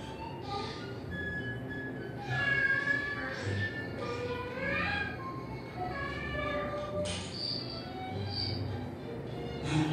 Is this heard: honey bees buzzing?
no